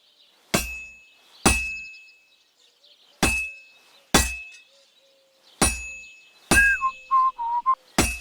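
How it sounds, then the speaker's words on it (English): Metallic hammer blows ring out on a heated sword resting on an anvil during a medieval blacksmithing scene in Kingdom Come: Deliverance II, with seven sharp clanging strikes at uneven intervals and a brief whistling tone in between. "Now take the hammer and try hitting it a few times."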